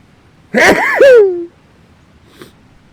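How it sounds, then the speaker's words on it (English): One loud, close sneeze with a sharp intake and a strained, pitched burst trailing off, followed by quiet and a faint sniff. "Excuse me a second, I'm going to sneeze."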